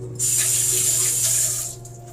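Water gushes steadily from a kitchen tap while cooked ingredients are rinsed off during pasta preparation, a loud, continuous splashing stream that runs for about a second and a half before trailing off.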